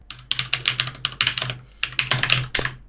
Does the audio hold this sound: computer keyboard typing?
yes